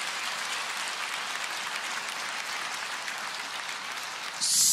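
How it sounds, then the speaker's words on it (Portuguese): Church congregation applauding during a Portuguese-language service, a steady wash of clapping at moderate distance, fairly quiet and continuous for nearly five seconds. "Vamos aplaudir ao Senhor."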